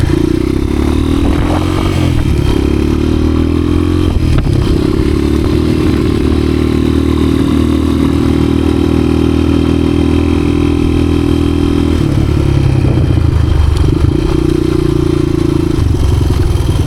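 A 1986 Honda XR200R dirt bike runs loud and close throughout, its engine drone rising and falling with throttle changes as it is ridden through woods, with clattering and scraping mixed in.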